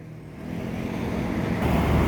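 A pastel double-decker bus with an Avante D2 body passes nearby in a steady, building rumble of engine and road noise that swells toward the end, with no talk over it.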